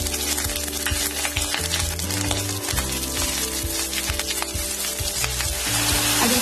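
Arbi (taro) leaf stalks frying in hot mustard oil, a steady loud sizzle with scraping stir strokes throughout and a low steady hum beneath.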